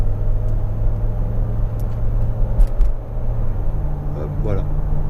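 A Cadillac Seville STS engine holds around 3000 rpm, a steady low hum heard from inside the car. Someone talks over it.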